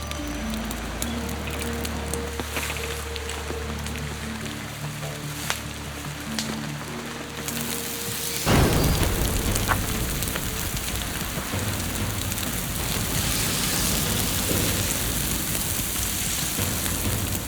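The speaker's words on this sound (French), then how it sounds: "La pluie ne s'arrête pas." Heavy rain pours on a castaway camp on a tropical island, a dense, steady hiss of drops that swells louder midway, with a few faint tones underneath.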